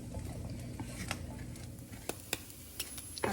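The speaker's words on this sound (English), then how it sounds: "And we're just cooking them for about a minute or so more until they are crisp for the gyros." Seasoned chickpeas fry in a pan, giving a low, steady sizzle with soft stirring scrapes and a few sharper pops near the end, fairly quiet throughout.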